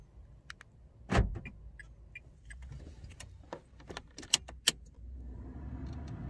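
A Toyota Passo is locked and unlocked with a smart remote key: a sharp thud of the locks near the start, then several quick clicks and latch sounds, with faint mechanical hum at the end.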